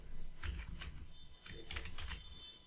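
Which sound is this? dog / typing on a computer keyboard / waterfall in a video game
typing on a computer keyboard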